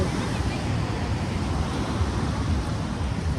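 Sea waves at a seashore near Bhubaneswar, a continuous broad roar of surf mixed with wind buffeting the microphone, steady and fairly loud throughout with no distinct breaks.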